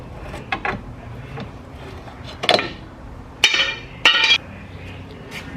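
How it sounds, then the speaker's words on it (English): A pry bar works a front suspension part loose on a 2006 BMW E90, producing sharp metallic clinks and clanks in irregular bursts, close by, with quieter scraping between the hits. "I have to grab a pry bar, pry it out this way forward."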